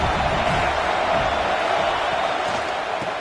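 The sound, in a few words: football stadium crowd getting louder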